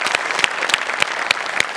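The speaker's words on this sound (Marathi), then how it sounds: "मस्त, जोरदार टाळ्या" Loud, dense applause fills a comedy show's studio audience, with sharper claps cutting through the steady patter throughout.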